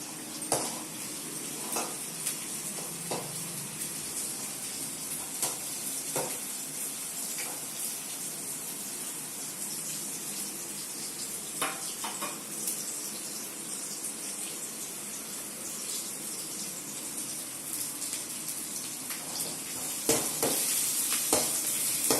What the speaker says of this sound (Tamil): வெங்காயத்தை போட போகிறோம். வெங்காயத்தை நல்லா வதக்கணும்.